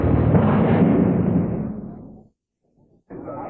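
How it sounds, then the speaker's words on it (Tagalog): A loud, deep explosion blowing open a thick steel door at NAIA Terminal 2 rumbles and slowly decays over about two seconds, followed by a brief silence and then renewed noise. "Sa lakas ng pagsabog, parang latang bumukas ang makapal na pinto ang bakal"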